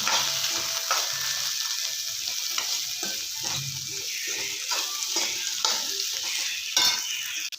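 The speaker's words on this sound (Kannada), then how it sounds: "ಇವಾಗ ಹುರಿದಿರುವ ಬೆಂಡೆಕಾಯಿ ಹಾಕ್ಕೊಳ್ತೀನಿ ಇವಾಗ ಚೆನ್ನಾಗಿ ಮಿಕ್ಸ್ ಮಾಡ್ಕೊಳ್ಳೋಣ" Fried lady finger okra is stirred in a pan, giving a steady sizzle with repeated scraping strokes of the spoon throughout, loud and close, with no voices.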